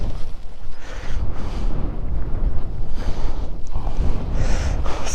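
Wind gusting across a hilltop, loud buffeting rushes against the microphone in uneven surges from start to finish, with no speech.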